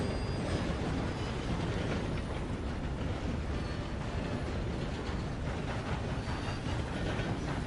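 Steam locomotive running in the video game Red Dead Redemption 2, a loud, steady rumbling roar with faint rhythmic clatter and no pause, heard close and alone.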